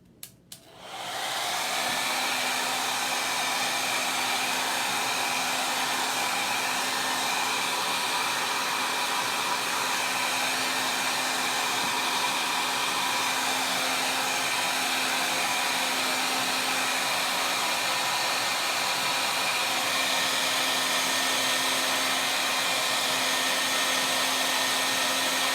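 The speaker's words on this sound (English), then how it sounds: "You're gonna have to bear with me while I run my hair dryer for a couple of seconds" A regular hair dryer blows steadily and loudly for a long stretch, drying chalk paint, with a constant whooshing roar and a faint whine after it clicks on.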